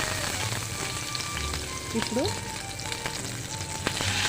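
Tempering seeds, dried red chillies and onion fry in hot oil for jeera rasam, giving a steady close sizzle with a light stir and a brief spoken word.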